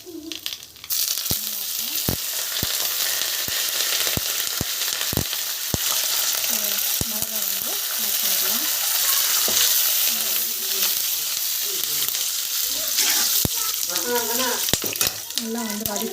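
Chana dal, cumin and curry leaves sauté in hot oil with a loud continuous sizzle, marked by sharp spoon taps against the pan, while someone talks over the cooking.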